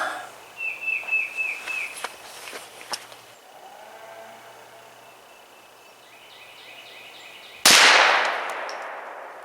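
Birds chirp faintly outdoors before a Ruger PC Carbine fires a single sharp, loud gunshot during ammunition testing, its report ringing and decaying afterward.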